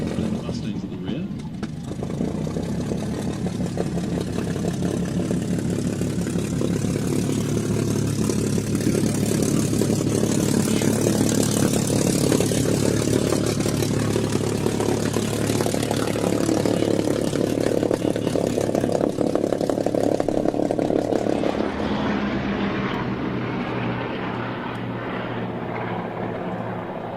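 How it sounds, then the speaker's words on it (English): Skyraider and Mustang propeller aircraft at the Flying Legends air show, a loud, steady engine drone that holds for about twenty seconds and then eases off, with a crowd murmur underneath. "Sky Raiders, and the Mustangs at the rear."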